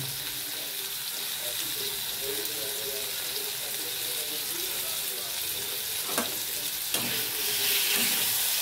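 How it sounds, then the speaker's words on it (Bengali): Tomatoes fry in a pan with a steady, even hiss of sizzling oil, stirred now and then with a couple of brief clinks near the end, close and continuous. "টমেটোটা একটু ভালো করে নাড়াচাড়া করে ভালো করে ভেজে নেব"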